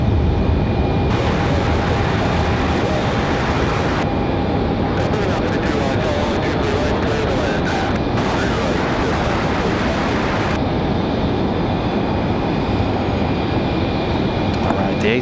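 Airbus A319 airliner rolling on takeoff at Raleigh-Durham International, an American Airlines flight bound for Miami: a loud, sustained jet roar with a high whine, rising bursts of hiss over the constant rumble, and voices talking at times.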